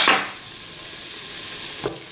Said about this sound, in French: Et je vais laisser tout ça dorer et colorer pendant une bonne 5 minutes en fait